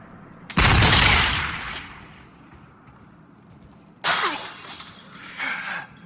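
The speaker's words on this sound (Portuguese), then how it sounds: "Por que que um tiro faz tanto barulho?" A gunshot in the video game Until Dawn: a loud, sharp blast followed by a long decaying rumble, then a second bright crack with a shorter tail a few seconds later, no talking over them.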